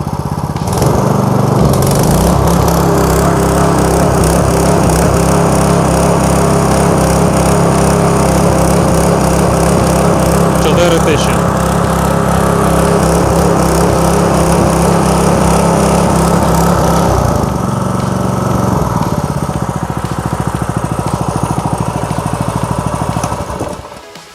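A small engine roars steadily at high revs, loud and close, holding a constant buzzing drone before cutting off near the end.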